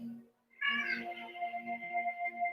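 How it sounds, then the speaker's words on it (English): A house cat meows insistently to be let out, a drawn-out wavering call that is close and clear and runs over a steady low background hum. "my cat wants to go out"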